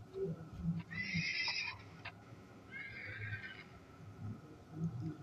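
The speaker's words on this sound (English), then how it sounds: "As you can see, that was the horse" A Minecraft horse whinnies twice in the game, two bright, shrill neighs about a second apart over low background rumble and faint in-game noise.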